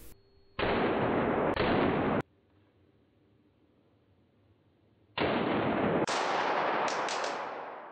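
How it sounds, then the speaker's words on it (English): A Sig Sauer P320 pistol loaded with match ammunition discharges on its own when dropped, giving loud, sharp reports: two close together early, then another pair after a quiet gap, each with a lingering tail. "All of these, when dropped at the right angle, would result in uncommanded firing of the pistol."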